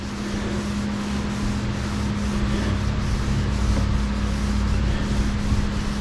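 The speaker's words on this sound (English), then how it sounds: "steel wool, and then just kind of cleaning it" Steel wool rubs surface rust off a painted Jeep CJ7 windshield frame in a continuous, close, gritty scrubbing that stays steady throughout under a low background hum.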